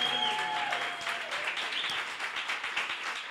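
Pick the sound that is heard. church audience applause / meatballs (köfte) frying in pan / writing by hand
church audience applause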